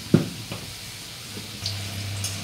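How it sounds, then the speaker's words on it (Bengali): Potatoes frying in oil, a steady close sizzle, opening with a sharp pan knock and a few light stirring clinks, no voices. "আলুগুলো ভাজা হয়ে গেছে"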